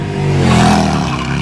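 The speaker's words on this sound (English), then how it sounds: "motorcycle going by, sorry, that's loud." A motorcycle passes close by outdoors, a loud engine whir and rumble that swells and then eases over about a second and a half.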